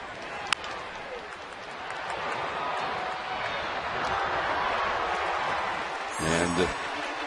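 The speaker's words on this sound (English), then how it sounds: "you can hear the crowd not happy" Baseball stadium crowd voicing displeasure, a broad steady murmur and grumble of many people, with a sharp crack near the start and a brief rise toward the end.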